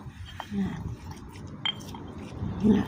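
A spoon mixing a bitter gourd omelette in a dish, with a few light clinks and scrapes against the bowl over a low background hum.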